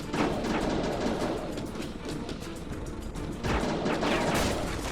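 Dense rapid gunfire crackles continuously in the video game Heavy Fire: Afghanistan, several weapons firing at once with bursts swelling near the end, loud and close.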